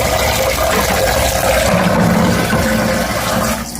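Water runs and splashes steadily close by while maple syrup spigots are rinsed inside and out, a loud continuous rushing sound.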